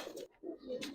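Satchila pigeons at a market give a brief pair of soft, low coos, close by and alone.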